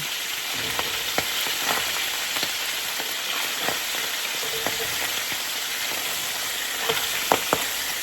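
Pork chops sizzle and fry steadily in a pan, a continuous crackling hiss dotted with sharp pops and spatters throughout.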